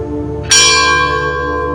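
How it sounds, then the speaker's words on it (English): A single loud, close bell strike at a countryside international school campus, from a simple primitive bell system, ringing out with a long metallic sustain that slowly fades, with no voices. "We have a primitive bell system also, which our small kids enjoy when they hear it."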